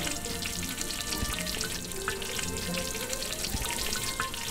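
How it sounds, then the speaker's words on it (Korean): Traditional Korean fermenting mash bubbles vigorously at peak fermentation, a close, steady crackle of tiny popping bubbles and wet fizzing that continues evenly throughout. "그 발효 정점에 올라가면 막 끓거든요."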